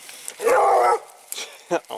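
A bluetick coonhound on a night coon hunt gives one drawn-out bawling bark, then short yips follow as the dog sets off on the trail, with brief talk from a hunter nearby.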